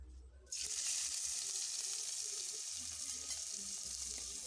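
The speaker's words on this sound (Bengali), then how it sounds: "এবারে পেঁয়াজটা ভেজে নেব।" Onion frying in mustard oil in a wok, a loud bright sizzle that bursts in abruptly after a brief quiet start and then holds steady and close, with faint stirring scrapes underneath.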